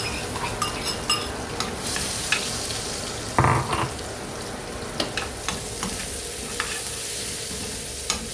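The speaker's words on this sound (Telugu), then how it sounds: "కరివేపాకండి తాలింపు వేసుకుంటామండి" Mustard seeds and curry leaves sizzle steadily in hot oil while a Kerala-style bitter gourd and raw coconut dish is tempered, with scattered pops and clicks of a spoon stirring in the pan.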